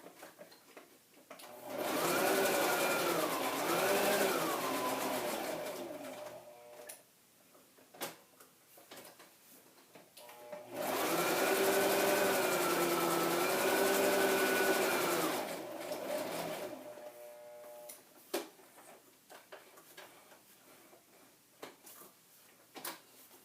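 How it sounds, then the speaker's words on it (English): A sewing machine stitches in two sustained runs of several seconds each, a loud whirring motor with a rhythmic mechanical chatter, separated by a pause filled with small handling clicks and rustles, close up and without talk. "I'm going to just do a little bit of sewing off camera here"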